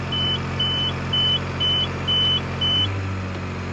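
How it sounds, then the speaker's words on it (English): Repeated electronic warning beeps from the control panel of farm field machinery, flagging low fan speed; five or six short evenly spaced tones over a steady engine hum. "Lots of beeping."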